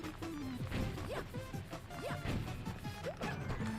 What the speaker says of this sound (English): I really like the sound effect these panels make.